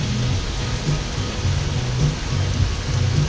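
Rain falls steadily outdoors on an evening lawn, a dense, even hiss of drops that continues unbroken and fairly loud, with no voices.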